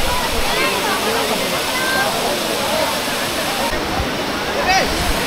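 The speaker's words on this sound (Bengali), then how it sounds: "এই হচ্ছে বামনী ফলস।" Bamni Falls waterfall in Purulia pours in a loud, steady rushing wash nearby, with a voice speaking briefly over the constant roar of water.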